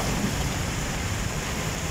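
Swollen Davao River running high after a full day of rain, a steady, loud broadband rush of water filling the whole span without pause, wind-like and constant, with no voices over it.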